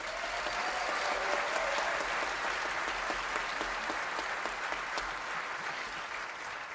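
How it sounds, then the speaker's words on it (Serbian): Applause fills a concert hall in Sarajevo as band members are introduced, a dense, steady roar of many hands that holds at an even level for the whole stretch without a break. "Molim vas jedan veliki aplauz."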